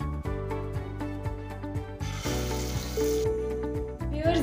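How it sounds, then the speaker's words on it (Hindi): Aloo tikki potato patties frying in a pan of oil, a steady close sizzle with a rhythmic low thumping backing track and a brief brighter hiss burst midway. "तो इसी तरीके से मैं अपनी बाकी टिक्कियों को भी फ्राई कर लेती हूँ।"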